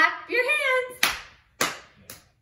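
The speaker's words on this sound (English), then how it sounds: "Clap your hands." Hands clap three times in a children's action song, each a sharp loud smack after a sung line, with a brief singing voice before the first clap.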